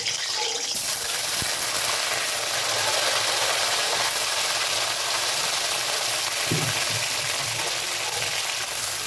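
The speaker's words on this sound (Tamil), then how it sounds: "அந்த ஆயிலே கத்திரிக்காய் வதங்கணும். இப்போ ஃப்ரை ஆகும் ஆயிலில்." Brinjal pieces for Chettinad oil kathirikai kuzhambu fry in hot oil, a steady broadband hiss and sizzle that holds at an even level throughout, with a brief soft knock midway.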